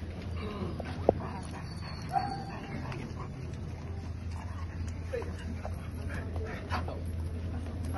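A six-month-old German shepherd puppy gives a few short barks and whimpers. The sounds are moderately close, scattered over a low background hum, and people talk intermittently alongside them.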